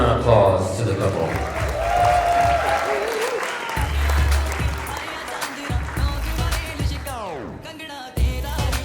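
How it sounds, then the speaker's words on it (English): Loud applause for the couple at a wedding reception, clapping from many guests running steadily under music and voices, with a rising sweep near the end before it continues. "Another round of applause to the couple."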